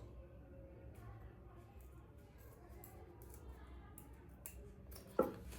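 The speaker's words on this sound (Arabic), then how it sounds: "هنجيب مقص ونقص" Scissors snip through a torn vacuum cleaner hose, giving one sharp, close cut near the end after quiet handling and rustling.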